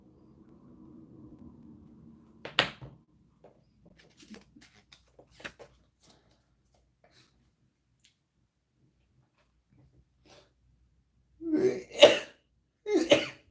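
Two sharp sneezes burst out close together near the end, after a quiet stretch of faint murmuring, scattered small taps and one brief earlier burst, in a room during an informal jewelry showcase.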